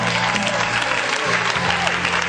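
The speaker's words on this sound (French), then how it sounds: "Acclame Jésus" A church congregation at a French-language offering service applauds and cheers in a dense, steady burst of clapping and crowd voices, with some talk underneath.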